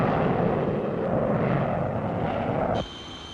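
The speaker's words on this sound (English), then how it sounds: "The Canberra is coming into squadron service, a sleek thing more beautiful to the eye than to the ear" An English Electric Canberra jet bomber roars past in a loud, broadband rush that holds steady before cutting sharply away, leaving a faint high whine.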